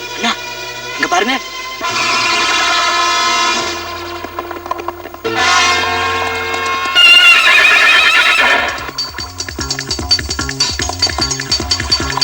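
A horse gives several loud, drawn-out neighs and whinnies up close, followed by rhythmic clip-clop hoofbeats, with voices speaking around it.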